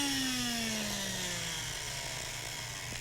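An electric spice grinder whirring on whole seeds, a loud continuous motorised whine that slowly drops in pitch as it runs, with no voices.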